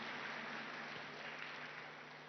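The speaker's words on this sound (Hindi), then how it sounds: "ताली तो बजा लें" An audience claps together in a steady, dense patter of applause that continues throughout, moderately loud and slightly fading toward the end, with no talk over it.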